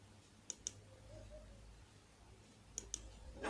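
Computer mouse clicks while formatting headings in Microsoft Word, two quick pairs of faint, sharp clicks separated by a quiet pause.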